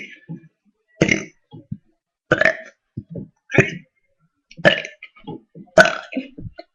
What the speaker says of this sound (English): can burp my ABCs